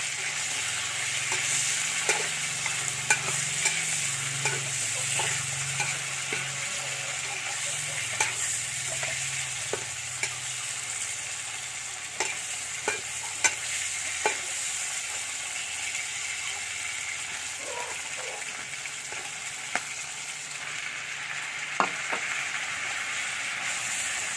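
Meat sizzles and roasts in a pan, a steady frying hiss with scattered crackles and occasional stirring clicks, fairly close and moderately quiet, with no talking.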